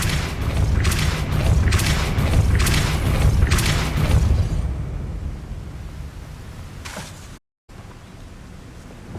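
Depulso force spell in Hogwarts Legacy: a loud, deep rumbling blast with pulsing booms that fades into a low noisy tail, followed by a brief cut to silence and a faint remaining hum.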